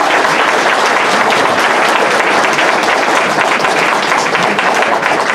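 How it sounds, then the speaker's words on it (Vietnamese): A large audience claps loudly and steadily, a dense wall of applause welcoming Brigadier General Châu Lập Thể to the stage. "Xin quý vị một tràng pháo tay để chào mừng chuẩn tướng Châu Lập Thế."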